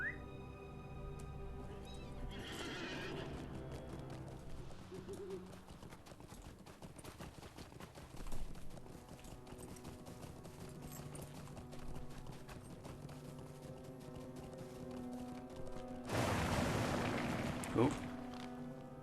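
Horse hooves clip-clop steadily in the Lord of the Rings Online video game, with a neigh, a burst of louder effects near the end, game music and a voice now and then.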